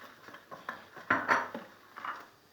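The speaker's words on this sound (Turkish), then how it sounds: "Üstüne maden suyunu dökerek karıştırmaya devam ediyoruz." Poğaça dough mixture stirred in a bowl with mineral water poured in, heard as scattered clinks and scrapes of a utensil against the bowl, close and moderately quiet.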